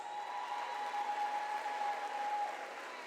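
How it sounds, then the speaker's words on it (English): Steady wash of audience applause at a closing ceremony of a Caribbean arts festival, distant and fairly faint, a continuous even patter with a faint tonal hum running through it. "Give them a round of applause, please."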